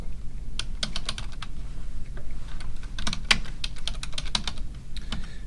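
Someone types steadily on a computer keyboard while filling in form fields, giving a quiet, close run of irregular clicks and keystroke taps over a low background hum, with no talking.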